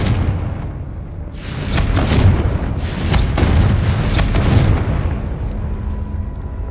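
A Confringo blasting spell going off in Hogwarts Legacy: a series of loud, close booming explosions with rumbling bursts that swell and roll over several seconds, no voices.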